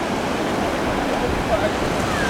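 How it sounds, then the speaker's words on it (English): Ocean waves break at a right-hand point break, a steady broadband wash of surf roaring continuously at close range with no clear separate crashes. "Before we go on the rainforest walk, let's check out these waves."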